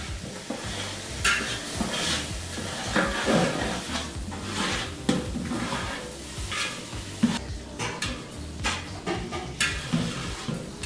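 Masala paste for a festive chicken biryani and mutton gravy sizzles and fries over low heat in a pan, with steady stirring and scraping strokes and occasional sharper knocks of the spoon against the pan.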